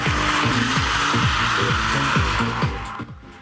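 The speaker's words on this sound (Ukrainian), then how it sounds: "А от численних глядачів водії порадували екстремальним дріфтінгом" Cars drifting at a motorsport event on an airport runway, loud continuous tire squeal with repeated surging engine revs in a rapid rhythm, fading slightly at the end.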